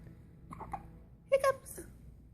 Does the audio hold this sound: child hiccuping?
yes